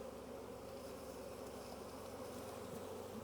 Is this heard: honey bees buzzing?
yes